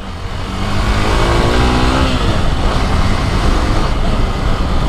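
Hero Xpulse BS4 motorcycle engine revving on a mountain road near a waterfall: the engine note climbs in pitch after a brief idle, then holds a loud, steady drone close by.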